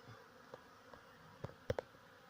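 Faint insect buzzing with a few brief, separate bursts as bees fly close past, over a quiet background.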